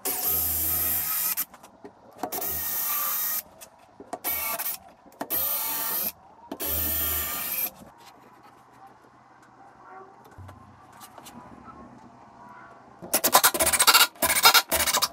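A power drill bores into timber in five short whirring bursts, followed by a quiet pause, then another rapid burst of drilling.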